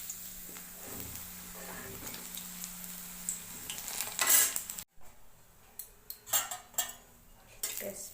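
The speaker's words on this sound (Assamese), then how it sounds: "এইখিনি মই আলুখিনি ভজাৰ পিছত ভাজি ল'ম।" Onion, chili, ginger and garlic frying in a pan after potatoes, close-up clatter of a utensil stirring with crackling sizzle, a sharp scrape mid-way and irregular clinks toward the end.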